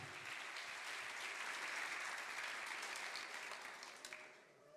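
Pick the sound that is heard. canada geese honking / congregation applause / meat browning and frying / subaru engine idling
congregation applause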